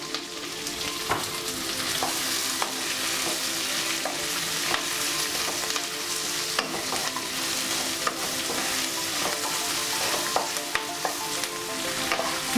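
Onions with a pinch of salt fry over a medium flame in a pan, giving a steady dense sizzle with scattered stirring clicks throughout, close and alone without any voices.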